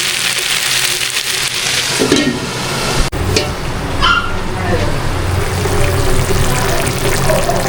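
A fish head frying in hot oil sizzles and spatters loudly up close, with stirring clatter and a sharp knock midway, while a person talks over the cooking.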